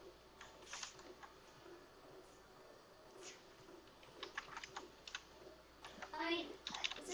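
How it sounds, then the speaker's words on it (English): Quiet keystrokes on a computer keyboard during a Tony Hawk's Ride and LEGO Tantive IV game stream: scattered soft clicks, thickening into a faster burst near the end, under low background voices. "I guess I should type that then."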